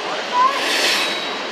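An Amtrak train rolls through Roseville station in California, a steady, loud rushing roar of wheels and rail noise close by, with a brief high squeal as it passes.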